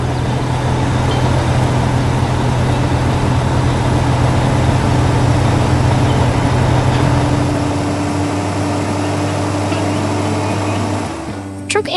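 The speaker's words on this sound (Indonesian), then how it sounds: "Lihat itu, semua truk sedang bekerja keras di tengah tanah pasir" Heavy trucks labouring on sandy ground in an animated scene, a steady low engine drone with a sustained hum, loud and unbroken, easing off and dropping away near the end.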